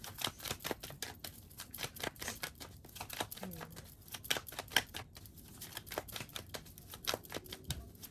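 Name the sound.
shuffling tarot cards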